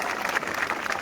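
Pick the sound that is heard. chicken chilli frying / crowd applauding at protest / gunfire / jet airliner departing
crowd applauding at protest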